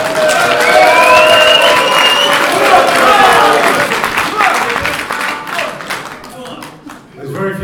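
Loud audience applause fills a boxing press conference in West London, steady clapping and cheering over the first five seconds and then thinning into scattered claps and murmuring voices.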